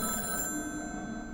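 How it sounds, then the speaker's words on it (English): A telephone bell rings steadily and fairly loud across the whole moment, its bright tone sustained without a break, heard alone with no voices. "the phone rang"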